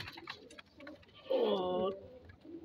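A pigeon gives a single short coo, close by but quiet, among faint background sounds on a breeding loft of patti-type pigeons.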